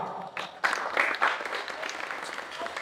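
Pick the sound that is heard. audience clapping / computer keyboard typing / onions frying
audience clapping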